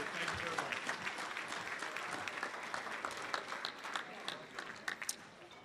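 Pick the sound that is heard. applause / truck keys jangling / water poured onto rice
applause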